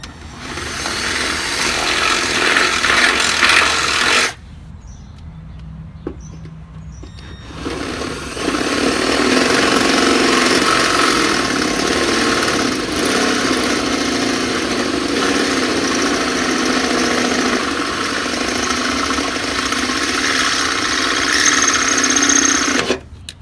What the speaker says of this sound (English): We will now take our 23/64 inch drill bit and we will enlarge those holes.